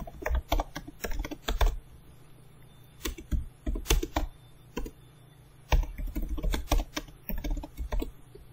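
Fingers type on a computer keyboard while entering a password during a Windows Server 2019 setup, producing close, crisp clattering bursts of keystrokes separated by short pauses, alone without speech.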